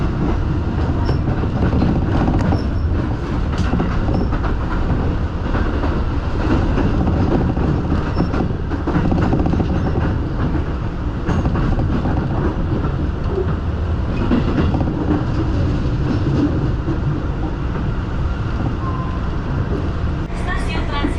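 Jakarta commuter train rides on the rails with a loud, constant rumble and rattle of wheels, occasional clicks and squeals, heard from inside the carriage.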